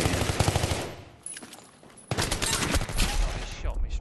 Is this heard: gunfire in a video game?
yes